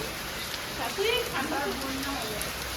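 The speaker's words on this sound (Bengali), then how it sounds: "দেখো বিশাল বৃষ্টি হচ্ছে" Heavy monsoon rain pours down in a steady, dense wash of noise while a person speaks briefly over it.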